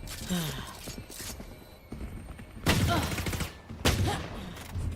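Gunfire from a Sheriff pistol in Valorant rings out as a few sharp, loud shots spaced apart, mixed with game effects and sounds under a caster's commentary.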